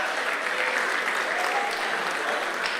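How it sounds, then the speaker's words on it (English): Students at a STEM festival mentorship session clapping for themselves, a steady, even roar of many hands throughout. "clap for yourselves once again"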